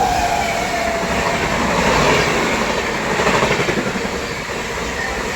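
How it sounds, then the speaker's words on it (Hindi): A Chhattisgarh Express hauled by a WAP7 electric locomotive rushing past at full speed, a loud, steady roar of wheels and rushing air filling the whole stretch, with faint rhythmic clatter toward the end; no voices. "सामने से भी कोई ट्रेन आ रही है, देखते हैं कौन सी ट्रेन है। पूरी रफ्तार के साथ आ रही है, WAP7 के साथ।"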